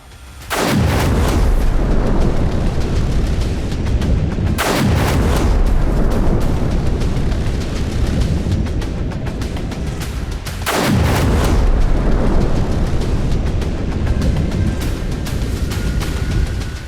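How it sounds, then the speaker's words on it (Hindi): Iranian ballistic missiles strike the Al Udeid US airbase in Qatar, heard as three heavy booming blasts several seconds apart, each trailing into a loud, sustained roar and rumble. "ईरान ने कतर में मौजूद अल उदेद अमेरिकी एयरबेस के ऊपर 6 बैलिस्टिक मिसाइलें दागी थी।"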